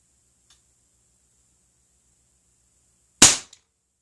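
A single sharp pellet air gun shot fired indoors in a basement, a loud crisp crack with a quick decay and a faint tick just after, otherwise near-silent with a faint steady high whine.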